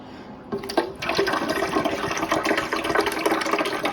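Tap water gushes and splashes steadily into a Keurig coffee maker reservoir after a brief quiet start, a dense continuous pouring sound close by.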